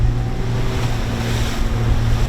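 A motorboat engine revs up under throttle out on the open ocean during a swordfishing trip, a steady loud low drone mixed with wind and wave wash, with no talking.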